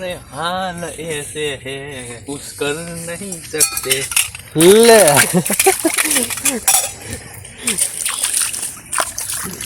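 Metal utensils being washed with water outdoors on a farm, with clanking, sloshing and splashing; someone talks over much of it, and the clatter grows louder in the second half.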